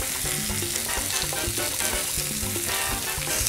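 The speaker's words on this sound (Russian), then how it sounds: "Лук нарезаем мелко и обжарю его на сковороде на растительном масле." Steady, loud sizzling of finely chopped onion frying in vegetable oil in a pan, a continuous crackling hiss throughout.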